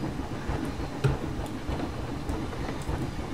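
Train ride in the video game Planet Coaster, with a steady low rolling rumble and faint rhythmic clatter of a coaster train running continuously, no voices.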